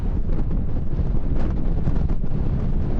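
Strong wind roars across an exposed hillside road near Uppermill, Saddleworth, buffeting the microphone with steady, loud rumbling gusts.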